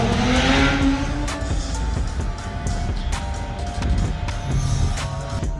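A Mercedes E63S with its muffler deleted revs hard, the loud raw exhaust rising and falling through several bursts with a sharp crackle, close by and without talk.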